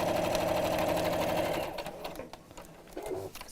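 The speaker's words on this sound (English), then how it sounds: "we're just going to carry on sewing until we've covered the whole area" A sewing machine quilts fabric with a steady, fast mechanical hum that stops partway through, followed by soft handling noises and a brief short run of stitching.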